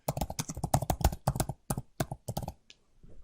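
Computer keyboard typing in bursts of quick clicks, with one longer stretch of rapid keystrokes and a short pause before a few lighter taps near the end.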